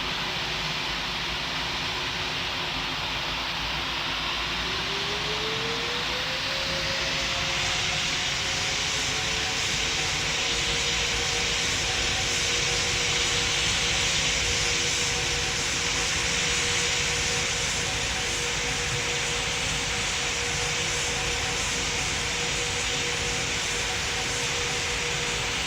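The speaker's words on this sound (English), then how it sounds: "you're clear for takeoff on 25 left" Airliner taking off in the Roblox game Pilot Training Flight Simulator, a continuous loud jet engine roar with a tone that rises as it spools up and then holds.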